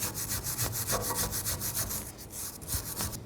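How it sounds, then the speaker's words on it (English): A wire brush scrubs rust off a rear brake caliper bracket on a 2009-2017 Chevy Traverse, a quick, rhythmic rasping scrape repeated in close strokes, fairly quiet. "take a wire brush, clean up some of this rust"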